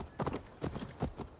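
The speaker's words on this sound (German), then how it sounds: "Das geht aber fix mit dem Pferd" Horse hooves clip-clop in quick rhythmic bursts as a mount gallops in Assassin's Creed Valhalla, three clustered groups of beats, moderately loud and close, with no talk over them.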